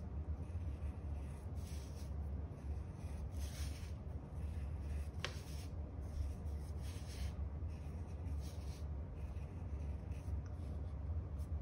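A pen drawing and turning a circle on paper for a mandala turtle design, a soft continuous scratchy rubbing that stays faint and steady over a low background hum.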